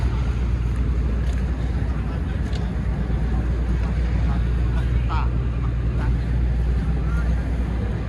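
Wind and engine rumble from the passenger ship Sakura Express fill the air while passengers board, a steady loud drone with brief distant voices.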